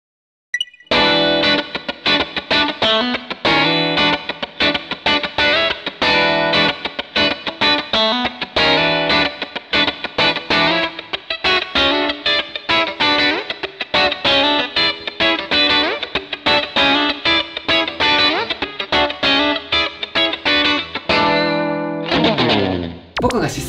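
Electric guitar strummed hard through effects pedals, ringing open strings in a dense, continuous distorted phrase with chorus and echo coloring, loud and steady for about twenty seconds before a brief sliding tail at the end.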